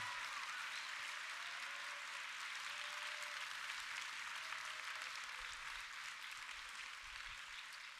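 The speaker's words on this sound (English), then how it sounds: "can we please have a round of applause for all of our Woody Flowers nominees and all of our mentors" An event audience at a robotics district opening ceremony applauds award nominees and mentors, a continuous dense roar of clapping heard somewhat distant and steady from start to finish.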